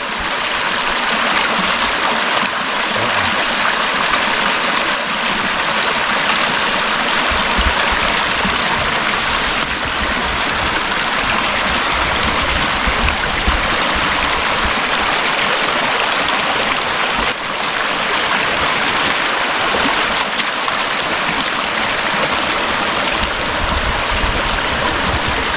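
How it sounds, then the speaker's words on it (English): A small creek flows steadily in a forest near Colville, a loud, continuous rushing and babbling wash with no pauses, heard close and alone. "Beautiful little creek."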